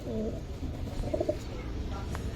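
Giribaz pigeons of the Palla line coo softly from nearby, a short run of low, rounded notes in the middle of the clip over a busy background murmur.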